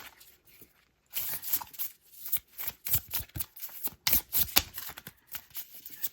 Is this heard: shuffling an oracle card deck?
yes